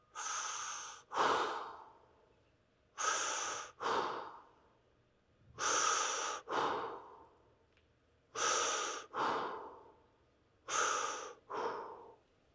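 Deep, slow breathing during a neck and hip stretch, five paired cycles of a long airy inhale followed by a shorter exhale, close and distinct with quiet gaps between.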